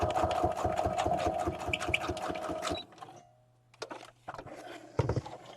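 A sewing machine stitches a design shop project in a run of fast, steady needle pulses for nearly three seconds, then stops, leaving a low hum and a few soft handling clicks close by.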